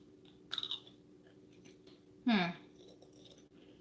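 Crackers crunch in two short bursts as someone bites and chews close by, quiet between the bites, during a live seafood salad cooking session.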